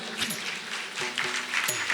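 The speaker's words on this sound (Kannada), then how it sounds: "ದೊಡ್ಡ ಚಪ್ಪಾಳೆಯ ಮೂಲಕ ಅಭಿನಂದಿಸಬೇಕು." Audience clapping at a felicitation ceremony for a student at a temple dining hall inauguration, a steady moderate patter of many hands heard from a short distance.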